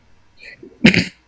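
A single close sneeze bursts out abruptly after a faint intake of breath, short and loud against an otherwise quiet room.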